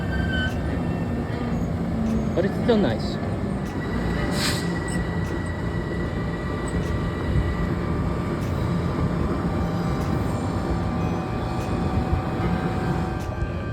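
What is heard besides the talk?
Harlem Line EMU electric train humming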